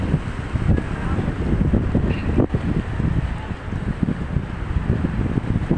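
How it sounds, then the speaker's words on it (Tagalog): Steady roar of rough water and wind at a Philippine fishport during a typhoon, with strong waves churning and sloshing continuously and a few thuds, like boats knocking at a pier. "napakarami pa rin alon, malakas pa rin ang mga alon dito."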